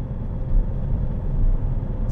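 A Skoda Octavia A5 diesel car with 318,000 km on it accelerates, its engine drone steady and loud from inside the cabin, swelling slightly midway through the short stretch.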